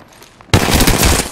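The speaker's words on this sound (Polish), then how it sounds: "Strzelam." Automatic gunfire erupts in Apex Legends, a sudden loud burst of rapid shots after a brief quiet moment, close and sustained to the end.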